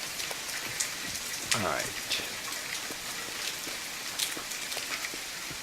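Steady rain hisses throughout in the survival video game The Forest, a dense even patter with scattered droplet ticks, while someone speaks briefly and quietly over it.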